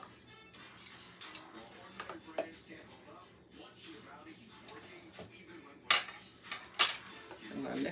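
Mayonnaise and mustard being stirred together in a dish, heard as soft scraping and clinking of a utensil against the dish, with a few sharper clinks near the end under quiet background.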